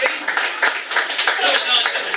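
A comedy club audience cheers and claps for the comedians, with dense, steady applause and crowd noise sustained throughout.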